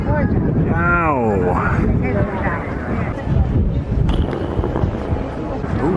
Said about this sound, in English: Let's see if I can block the wind, because it is windy up here.